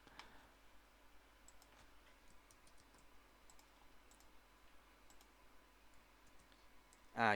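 Typing on a computer keyboard, faint scattered key clicks in light irregular bursts against a quiet background, ending with a louder knock, with no voices.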